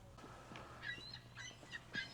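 A seagull squawks a few times in short, bright calls over steady outdoor background noise at Cottonwood Cove Marina.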